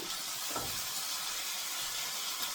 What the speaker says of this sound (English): I am going to sear all my oxtail pieces on all sides until they're nice and brown.